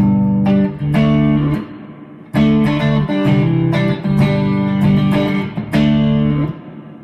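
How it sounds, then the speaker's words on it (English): Electric guitar chords ring out clean through a Bad Cat Bobcat 5R amplifier with real, non-digital reverb, each strum sustaining with a spacious reverb tail before the next, loud and alone. "A little bit of reverb. Here's a little bit more."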